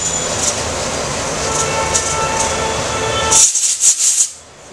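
A kitchen pressure cooker cooking green onion and moong dal hisses steadily with steam, then lets out a run of sharp, loud whistle bursts before falling quiet.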